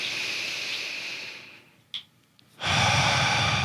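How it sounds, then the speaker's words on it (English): Close, relaxed breathing during a calming breathwork exercise: a long airy exhale fades out, a brief quiet pause with a small sniff follows, then a full loud inhale draws in. "Just return to your normal breathing."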